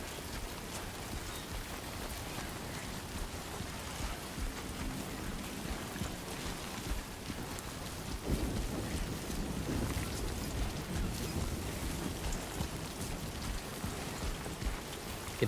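Continuous rainfall in Death Stranding 2, an even, close hiss of drops with a low rushing, surf-like swell joining about halfway through and carrying on to the end.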